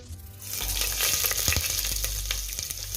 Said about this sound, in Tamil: குக்கரில் தேவையான அளவு கொஞ்சமாக எண்ணெய் ஊற்றி பட்டை கிராம்பு ஏலக்காய் எல்லாம் போட்டு